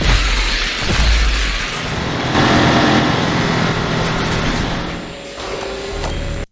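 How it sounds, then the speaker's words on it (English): A roaring engine in a film scene: a loud, sustained rumbling roar with shifting pitch that fills several seconds without a break, and no talk over it. "We are also only seeing this roar of an engine for 3 seconds"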